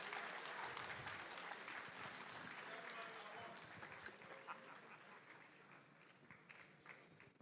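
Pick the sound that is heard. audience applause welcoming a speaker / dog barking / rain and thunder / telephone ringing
audience applause welcoming a speaker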